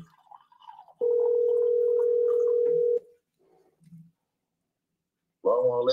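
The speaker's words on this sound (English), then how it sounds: "Let me try to call back the last caller." A telephone dial tone during a callback, sounding as one steady tone for about two seconds between faint clicks and murmurs, followed by a brief burst of a voice.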